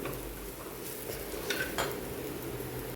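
Spices being stirred and roasted in a pan with chilli powder and coriander powder for a kanthari mussel roast, with steady frying sizzle and a few scraping clinks of a spoon against the pan, close and without speech.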